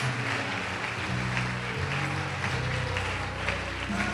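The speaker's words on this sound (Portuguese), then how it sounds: "Pode aplaudir o Senhor e glorificar a Deus." A church congregation claps, a dense, steady patter of many hands mixed with a sustained low musical hum, moderately loud throughout.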